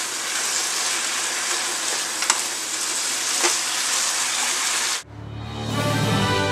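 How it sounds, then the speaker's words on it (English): Ginger beef sizzling loudly in bubbling sauce in a pan, a steady dense hiss of frying for about five seconds, then an abrupt drop to a softer, lower bubbling. "We just want to stir fry this all together"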